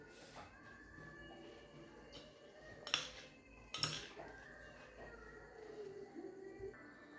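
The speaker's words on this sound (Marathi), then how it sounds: "तर आता हे मिक्स करून घेऊयात." Spice masala for raw mango pickle being mixed by hand in a bowl, quiet scraping and stirring with a few sharp clinks of a metal spoon against the dish, close by.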